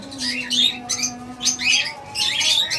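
Caged lovebirds, a pair with red-eye and black-eye types, give sharp squawks and chirps in quick bursts, loud and close, with no talking.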